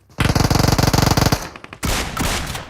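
Rapid automatic gunfire from PUBG Mobile weapons rattles in a dense, loud burst of evenly spaced shots, then breaks off and gives way to a rougher, noisier blast of game sound.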